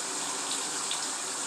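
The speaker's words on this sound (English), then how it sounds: "seems like it's been taking a while to fill up this tub" A tap runs into a bathtub as it fills, a steady close-up gush of water that holds constant and moderately loud throughout, with no speech.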